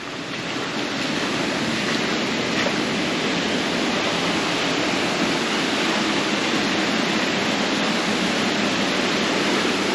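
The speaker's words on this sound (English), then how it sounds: "Waterfall over there." Waterfall at Meiringskloof Nature Park, heard as a dense, loud, unbroken rush of falling water that holds steady for the whole stretch, with no voices over it.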